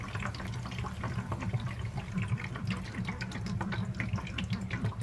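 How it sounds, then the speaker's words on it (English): Fresh local cherry juice is pressed through a fine strainer with a long spoon, giving continuous wet sloshing and trickling with soft scraping, close and steady, no speech. "Using a strainer, and I'm gonna use a long spoon, and that will go through the fine strainer."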